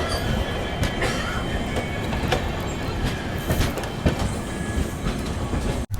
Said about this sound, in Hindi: फाइनली अभी हम लोग निकल रहे हैं आधे घंटे की देरी से ही न्यू जलपाईगुड़ी जंक्शन से